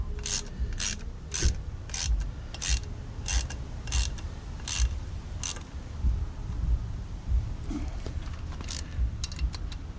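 Spring-loaded chain tensioner for a 49cc–80cc motorized bike being tightened down with a wrench, a regular series of sharp ratcheting clicks repeating close up, then a more irregular burst of clicks near the end.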